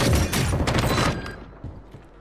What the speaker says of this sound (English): Who is that shooting?